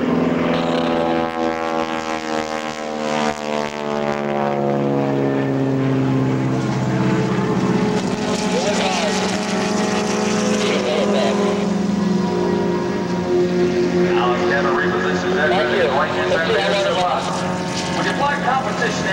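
A North American SNJ propeller airplane flies aerobatics at an airshow, its loud, steady engine drone sweeping down in pitch as it passes, with a voice talking over it.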